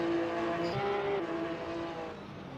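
A Porsche Cup race car in a racing video game at the Red Bull Ring, engine holding a steady high whine that wavers and shifts pitch as the car oversteers, loud and close with no talking.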